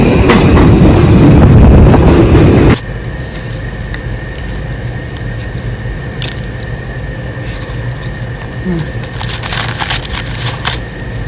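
A train rolls along its rails with a steady, continuous rumble and faint clatter, preceded by a louder burst of noise at the start.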